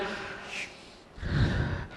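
A deep breath is drawn in as a demonstration. A soft breathy sound comes first, then a long, loud inhale fills the second half, close to the microphone.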